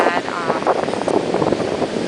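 Strong wind blows at a beach, buffeting and rushing against the microphone in a loud, steady roar with gusty swells, close and unbroken.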